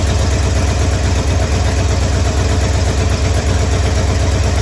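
Loud, close car engine idling on a Holley 4-barrel carburetor, a steady low rumble with a fast even pulse throughout, no voices.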